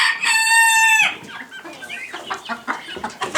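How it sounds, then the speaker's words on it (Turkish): A rooster crows loudly once, then laying hens cluck and murmur close by in a chicken coop in short, uneven bursts. "Şu an burada 15 tane yumurta yapan tavuğumuz mevcut."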